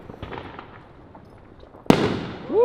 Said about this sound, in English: So I know you guys can probably hear all these fireworks going off